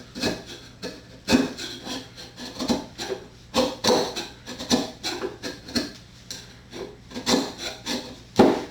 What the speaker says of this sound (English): making just a few light passes along the back wall of the mortise with this paring chisel